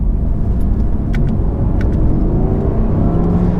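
A 2019 Audi R8 with a naturally aspirated engine rumbles loudly and steadily up close, a deep continuous drone with faint higher whirs, without obvious sharp rev spikes and no voices.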